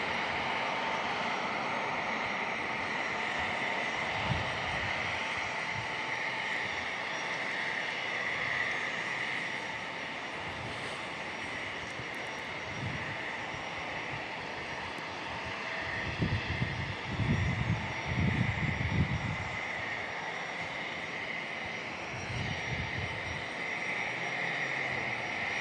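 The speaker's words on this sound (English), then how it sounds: "American Airlines, 737-800 from Phoenix" An American Airlines Boeing 737-800 jet from Phoenix at San Diego International Airport, a faint distant engine drone with a steady whine and low rumbling swells that build toward the end.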